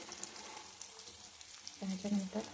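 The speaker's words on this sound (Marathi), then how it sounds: "जिरे आणि कांदा टाकलेला आहे मी हे थोडंसं भाजून घेते" Cumin and onion fry quietly in a pan with a soft low sizzle, ending in a few brief louder scraping or clattering touches near the end.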